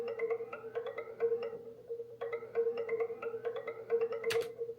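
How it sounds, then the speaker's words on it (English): Synthesized tom-like tone from a music production track, with a bubbly, alien quality: quick bursts of repeated pitched hits in two runs separated by a short gap, ending in one bright burst, all fairly quiet. "Kind of sounds like a tom or like a weird alien kind of sound, like bubbles"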